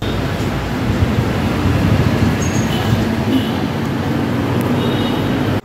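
Loud, steady rumble of a Manila LRT light rail train in motion from Blumentritt Station, constant rolling rail noise with faint squeals overhead, heard from inside the carriage.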